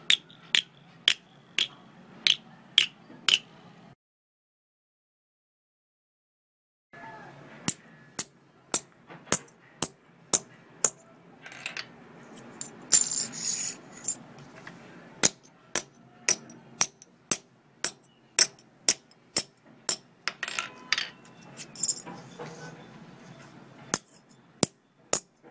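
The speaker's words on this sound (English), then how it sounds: "make this cola cap flat with the help of hammer" Sharp metallic taps repeat in quick bursts, a hammer flattening a cola bottle cap, with a brief silent gap and some clattering between strikes.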